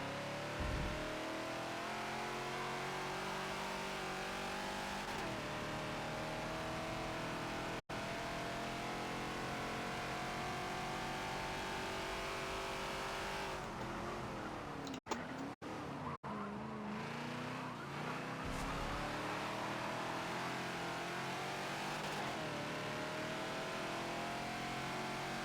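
Ford Falcon XB race car in the Forza racing game lapping Homestead Road Circuit, its engine revving hard and dropping through gear shifts, with brief tire squeal under braking, loud and continuous throughout.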